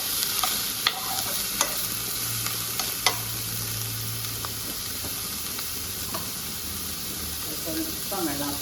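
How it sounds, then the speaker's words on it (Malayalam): A spoon stirs masala for a meatless fish-style curry with ivy gourd in a sizzling pan, sharp scraping clicks over steady frying hiss, then a little water goes in and the sizzle rises, close by. "നല്ലതുപോലെ ഇളക്കി തട്ടിപ്പൊട്ടി ഒരു സ്വല്പം വെള്ളം ഒഴിക്കുകയാണ് വയ്ക്കാനായിട്ട്"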